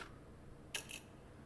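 Ceiling fan pull chain released indoors, a brief faint metallic rattle of two quick clicks over a quiet room hum.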